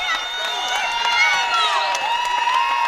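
Crowd noise at a high school state semifinal basketball game between Bigfork and Custer County, a loud continuous roar of yelling voices in the stands.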